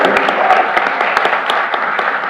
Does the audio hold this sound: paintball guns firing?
no